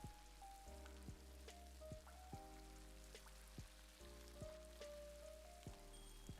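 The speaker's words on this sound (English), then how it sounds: "Isn't the rain nice? I really like rain." Rain falling outside, a faint, steady patter heard at a distance, with soft scattered drops and a low hum running beneath it.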